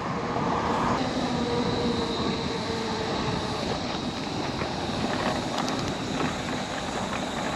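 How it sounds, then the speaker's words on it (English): A train rolls through near a railway crossing beside a cycleway, a steady rumbling clatter of rail cars with faint wheel squeal, continuous and moderately close throughout. "There's actually a railway crossing just over here."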